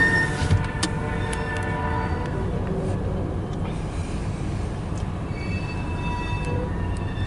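A CSX eastbound freight train rolls past at Port Huron, a loud continuous rumble of railcars with squealing metallic tones and clanks, heard from inside a car.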